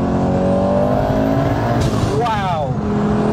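A 1000 hp Audi 80 accelerating hard in third gear, its engine roaring loud and continuous from inside the car with a rising whine near the end, and a voice speaking over it.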